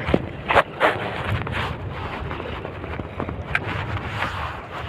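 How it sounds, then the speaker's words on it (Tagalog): Strong wind at sea buffets the microphone on a small fishing boat, a rough, gusty roar with irregular thumps and bursts throughout, loud and close. "Kapalakas ng hangin."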